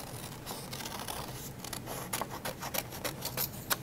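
Scissors snip through paper while cutting out a face shape for a Frankenstein craft. The close, quiet cuts come as a series of short, crisp snips that pick up in rhythm toward the end.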